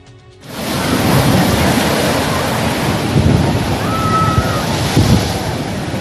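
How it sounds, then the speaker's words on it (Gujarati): A stormy Arabian Sea at Dwarka roars with high, crashing waves after a quiet start, a dense, loud surge of surf mixed with gusting wind buffeting the microphone. "દ્વારકાનો દરિયો બન્યો તોફાની,"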